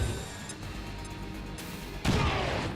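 A grenade explodes in the turn-based tactics game XCOM 2, a sudden loud booming blast that bursts in after a stretch of dense game ambience and rumbles on.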